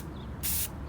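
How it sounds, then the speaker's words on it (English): An aerosol spray can held upside down and sprayed to clear its nozzle gives one short, bright burst of hiss lasting about a quarter second, loud and close against a quiet background. "make sure you turn it upside down and spray away from your phone"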